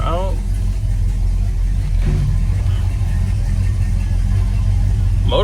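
A 1970 Buick Electra's V8 engine, believed to be a 455, runs steadily from inside the car while underway, a loud low rumble throughout with faint talk.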